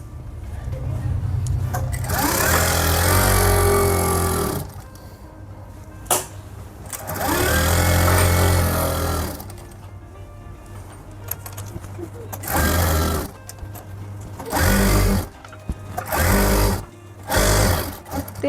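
A sewing machine stitches an Afghani salwar in several bursts, long whirring runs early and then shorter stop-start passes, loud and close, with someone speaking in the pauses between them.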